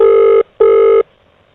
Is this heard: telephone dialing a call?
yes